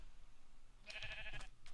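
A sheep in the video game Minecraft gives a single short bleat, a wavering nasal cry heard close and clear over quiet background.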